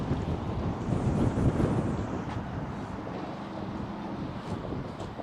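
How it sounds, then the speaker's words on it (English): Steady wind buffets the microphone on a back street in Cairns, Australia, a continuous low roar that swells and eases slightly without pause, with no other sound standing out. "it's quite windy"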